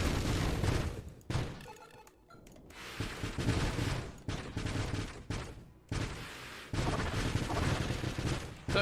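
Rapid bursts of missile fire from the space shooter Nova Drift roar in dense, loud volleys, broken by a few brief gaps, with no talking.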